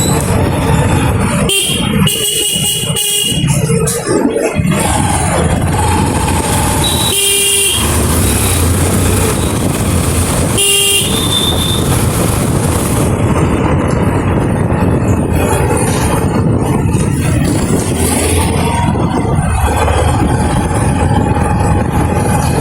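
Traffic noise from a 150cc motorcycle ride on a busy road, with loud, continuous engine and road roar and several car and truck horns honking nearby.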